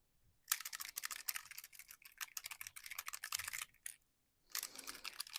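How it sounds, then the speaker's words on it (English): Small mixing balls rattle rapidly inside a shaken spray bottle of mica craft spray, in two bursts of quick clicking separated by a brief pause. "sorry for the little balls rattling"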